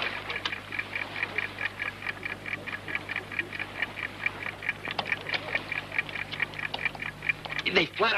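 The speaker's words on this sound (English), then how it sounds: "Planted a time bomb underneath the floor." A rapid, regular ticking from a time bomb repeats steadily throughout, fairly close, with faint background murmur and a brief clatter near the end.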